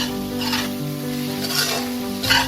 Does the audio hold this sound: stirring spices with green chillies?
yes